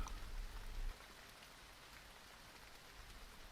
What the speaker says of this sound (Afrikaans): Sagte, deurdringende Gautengse reën verf die lug met skakerings van grys.